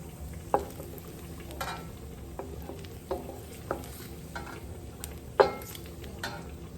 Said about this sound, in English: Now I'm just going to go ahead and remove it from my wok and set it aside.